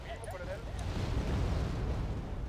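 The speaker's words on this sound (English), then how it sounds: "Taking a big bombing run here" Bombing-run explosions in the real-time strategy game Wargame Red Dragon make a low, continuous rumble of blasts. A brief synthetic chirp sounds at the start, and a voice may be talking faintly underneath.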